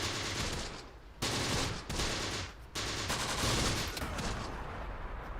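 Machine-gun fire from an SdKfz armored vehicle in the Close Combat war game, sustained loud bursts broken by two short pauses, no talking.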